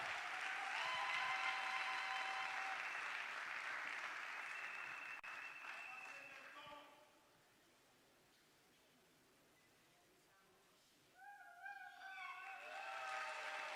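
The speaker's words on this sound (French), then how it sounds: "On peut les applaudir, mesdames et messieurs." Audience applause at a Congolese national scholarship award ceremony, a broad wash of clapping that fades out midway, leaving near-silence, before more noise returns with tonal sounds over it.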